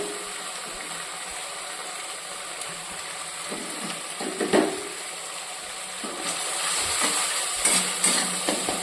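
Ginger paste frying in a pan with tomato-onion masala, a low continuous sizzle with soft scraping and clicking of a spatula stirring, growing a little louder and busier toward the end.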